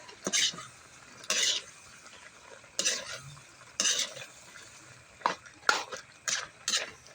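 Ginataang papaya stirred in a pot, a series of distinct clinking scrapes of a utensil against the pot at irregular intervals over a faint simmer, close and fairly quiet, with no voices.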